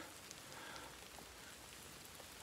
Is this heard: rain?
yes